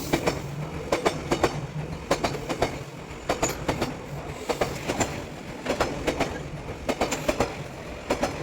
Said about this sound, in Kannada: ಬಿಕಾಸ್ ಟ್ರೈನ್ ಪಕ್ಕದಲ್ಲೇ ಪಾಸ್ ಆಗುತ್ತೆ.